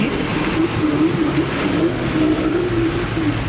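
A car engine hums steadily close by on a rural road in La Union, with a wavering mid-pitched engine tone and no talk.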